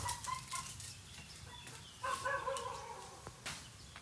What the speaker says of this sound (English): and their loud-ass chickens